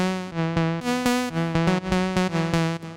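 Dry synth lead from the Serum plugin, built from three stacked saw oscillators with no effects, playing a bright, buzzy rhythmic pattern of short clipped notes in a repeating melody.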